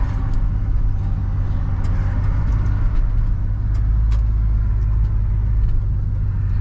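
A 1970 Oldsmobile Cutlass SX driving at low speed, heard from inside with a steady deep engine rumble and road drone, continuous and fairly loud with no talk.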